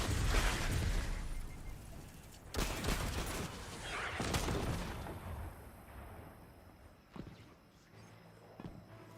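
Gunfire aimed at the player in the video game Destiny 2, a dense burst of loud shots up front, another volley near the three-second mark, then scattered fainter reports over a low rumble.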